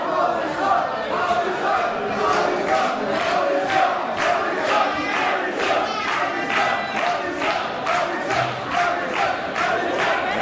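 A wrestling match crowd cheers and chants in rhythmic bursts, loud and sustained, with a rowdy indoor roar throughout.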